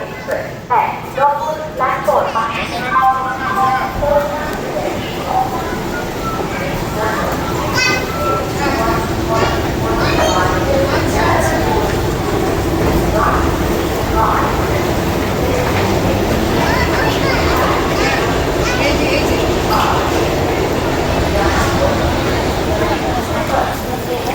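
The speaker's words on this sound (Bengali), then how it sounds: "এই হলো আমাদের ট্রেন কলকাতা রাধিকাপুর এক্সপ্রেস" A Kolkata–Radhikapur Express LHB train stands at a busy station platform, its low rumble running continuously beneath loud crowd chatter and children's voices.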